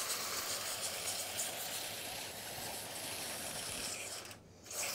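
A bicycle chain and drivetrain turn steadily, giving a continuous soft mechanical whir and fine ratcheting tick from the freewheel, close and moderately loud, with a brief dip near the end and no speech.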